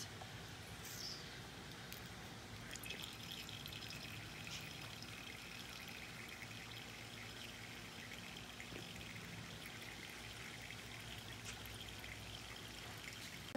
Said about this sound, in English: And then you're going to let that drain out again into the waste.